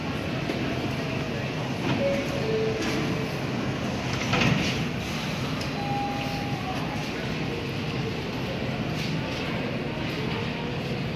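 An R179 A express subway train runs through Jay Street-MetroTech station in New York, a steady loud rumble and rail noise with faint squeals throughout.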